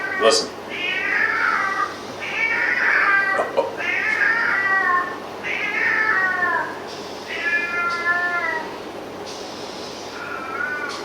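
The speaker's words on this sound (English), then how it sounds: "Hearing that cat in the jungle." A cat in the jungle meows repeatedly, about six drawn-out wavering calls in a row, fairly close and clear against a quiet background.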